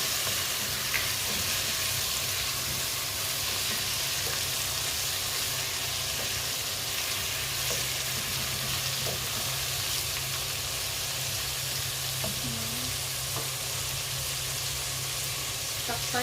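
Papaya pieces sizzle and fry steadily in a pan in a home kitchen, a soft continuous crackle with occasional faint stirring scrapes throughout.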